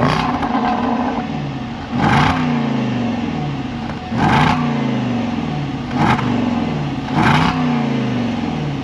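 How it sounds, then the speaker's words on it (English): A Jaguar F-Pace SVR exhaust in dynamic mode gives a steady, throaty drone with repeated falling pitch sweeps, broken about every two seconds by short bursts of louder, harsher roar. "The exhaust note is also more aggressive in the dynamic mode."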